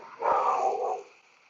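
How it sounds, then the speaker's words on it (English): A pit bull behind a garden fence gives a single drawn-out bark or yelp, heard at a moderate distance and alone. "So you hear it over there barking"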